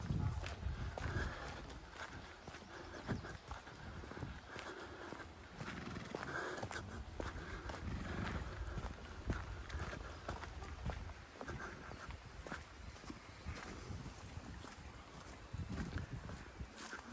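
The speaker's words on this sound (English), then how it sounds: "Hello, you big Shire horse coming over." A big Shire horse walks close by in the Loxley Valley near Sheffield, its hooves clip-clopping in an uneven, soft rhythm amid outdoor ambience.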